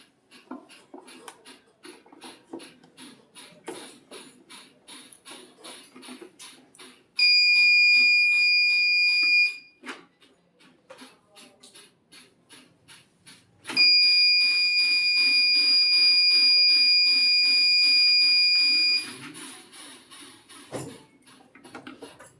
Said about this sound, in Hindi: जैसे ही ये चेन सेंसर के पास जाती है वैसे ही अलार्म बजता है